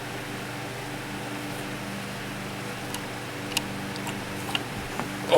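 A 1954 Emerson 77646-SG 12-inch oscillating fan runs with a steady low motor hum and whooshing airflow, accompanied by faint ticking, close and continuous with no talk.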